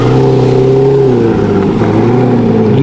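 Aston Martin V12 Vantage revving close by: a loud, sustained engine note holding steady, sagging slightly in pitch midway, then climbing again near the end.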